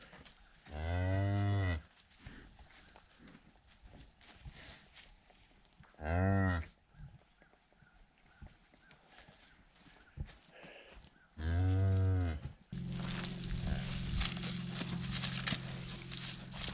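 A heifer on a cattle farm lets out three loud, long moos spaced a few seconds apart, with quieter shuffling between them and a steady low rumble of farm noise taking over near the end.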